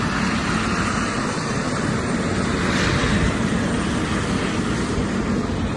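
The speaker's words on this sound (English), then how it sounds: "We've got a helicopter taking off at the moment" A helicopter taking off, its engine and rotors roaring as one steady, loud, unbroken wash of noise, close by, with no voices.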